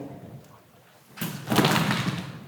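A dancer's body knocks over a group of plastic water bottles in a rehearsal space, producing a sudden loud clattering, rolling rush that follows a quiet moment and then fades out slowly.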